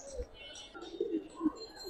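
Giribaz pigeons at a bird sale coo softly with low, faint murmuring calls in a quiet setting.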